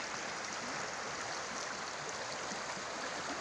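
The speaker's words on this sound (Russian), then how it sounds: "Полюбуйтесь на нашу красивую природу, на нашу реку" A river flowing through natural countryside, heard as a steady broadband rush of moving water that stays even and continuous from start to end, with no voices or other distinct sounds over it.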